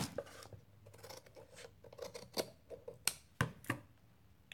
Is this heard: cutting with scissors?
yes